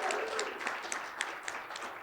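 A crowd applauds at a legislative reception for a speaker at the podium, steady close clapping with a few sharper individual claps standing out.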